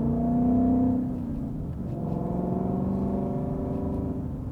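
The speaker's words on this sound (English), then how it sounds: "Ford Performance Extreme exhaust sounds good" A 2019 Ford Mustang GT with a Ford Performance Extreme exhaust revs close by, a deep rumble that swells, dips briefly, then settles into a steady throaty drone with no talk over it.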